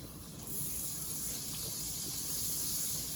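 Half a stick of butter melting in a hot skillet gives a steady, even sizzle and hiss. It stays fairly quiet and continuous, with no talking.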